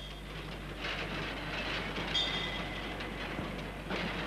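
Steady rumbling ambience of a train waiting at Paris Gare de Lyon in 1955, the Mistral express, a continuous low station and carriage drone with faint metallic clinks, no speech.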